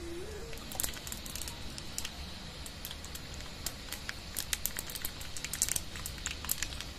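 Cumin, urad dal, chana dal and mustard seeds splutter in hot oil for tomato chutney, a steady frying hiss dotted with sharp crackling pops that cluster and grow busier.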